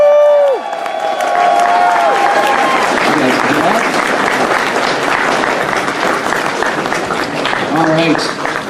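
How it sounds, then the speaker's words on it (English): A convention crowd at opening ceremonies breaks into loud, sustained clapping and cheering for the director, with a voice audible briefly at the start and again near the end. "one more round of applause for our director."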